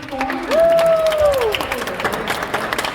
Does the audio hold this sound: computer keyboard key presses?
no